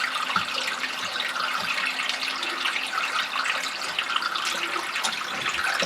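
Water draining from a boat's plumbing during winterizing before haul out, a steady close trickling and splashing flow with faint drips, continuous and fairly loud, no voices.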